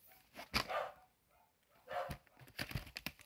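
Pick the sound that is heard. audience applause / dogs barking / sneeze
dogs barking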